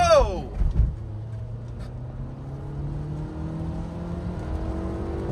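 Renault Duster engine pulling under acceleration from inside the cabin, a steady rising drone that builds through the run after a brief burst of noise at the start.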